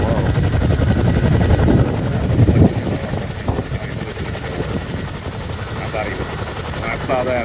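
Chinook helicopter rotor blades turning, a loud continuous rhythmic chopping thud close by, with someone talking over it for much of the time.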